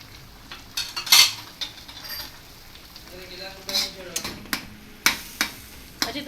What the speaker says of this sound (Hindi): अच्छी तरह इसकी भुनाई कर लेंगे।